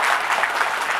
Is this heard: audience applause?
yes